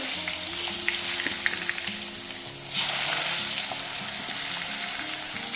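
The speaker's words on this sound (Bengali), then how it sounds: "আলুটা ভেজে নেব" Cut potatoes fry in hot oil seasoned with turmeric and salt, giving a steady close sizzle that swells noticeably louder partway through, with no voices.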